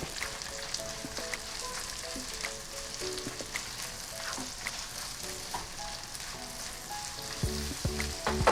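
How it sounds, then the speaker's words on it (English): Shallots and garlic sauté in a hot pan for tempeh orek, a steady close crackling sizzle with light stirring clinks and scrapes throughout, no voices. "So when your pan starts getting hot, you can add the shallots and the garlic. You want to saute this or cook this for about a minute."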